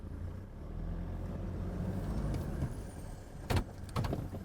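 A 4x4 reverses on sand with a steady low engine rumble throughout, growing louder toward the end, where a couple of sharp clunks stand out.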